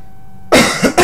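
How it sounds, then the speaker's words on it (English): A person coughing hard after near silence: one loud harsh cough burst followed by two more quick coughs, close up and alone. "And I'm really coughing like mad now."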